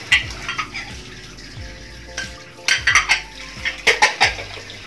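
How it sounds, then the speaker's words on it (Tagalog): Dishes are washed by hand in a sink, with plates and cutlery clinking and clattering in irregular bursts, some sharp and close, over a low background hum and without talking. "so ako ngayon dito ay naguhugas ng pinggan guys"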